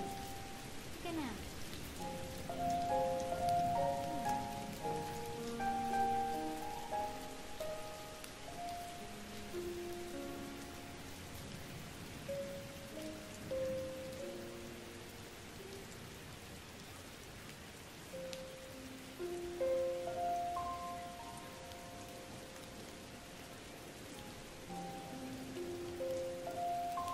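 Steady rain patters on a surface throughout, with soft melodic tones drifting over it and no voices.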